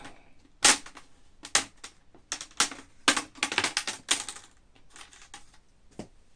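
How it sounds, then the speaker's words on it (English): Plastic clips snap loose as the screen bezel cover of a Lenovo Z50 laptop is pried away by hand, a close, irregular run of sharp cracks and clicks with short pauses between them. "get the cover of the screen off, and it's simply a process of carefully separating it, and no screws involved"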